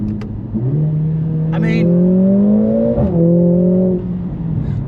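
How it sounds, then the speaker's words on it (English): Mercedes-Benz A45S AMG engine pulls hard with rising tone, then a quick upshift drop around three seconds, close and loud in the cabin with a brief spoken phrase over it. "I do like the sounds of the upshifts. They're very, very efficient and fast little farty noises."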